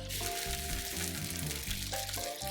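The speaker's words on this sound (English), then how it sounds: "it should start sizzling" Pieces of fried corn meal polenta (Portuguese milho frito) sizzle in hot oil with a steady, close, hissing crackle that fills the whole stretch, under a faint low hum.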